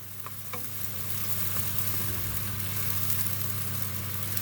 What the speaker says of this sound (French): Bien déglacé, avec le muscat bien déglacé.